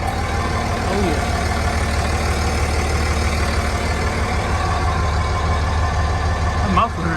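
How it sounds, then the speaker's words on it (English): Cummins diesel truck engine with a stock muffler idling, a steady low rumbling hum that stays even and fairly quiet, with a couple of faint squeaks. "She's quiet. You wouldn't even think it was a diesel."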